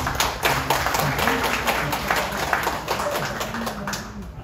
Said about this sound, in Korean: 이분들에게 박수 한번 부탁드립니다.